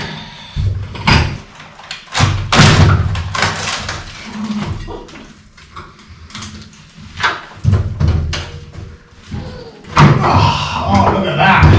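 An old door with its hinges gone is lifted and worked off its frame, giving a run of loud wooden knocks, scrapes and thuds at close range, mixed with talking and effortful voices.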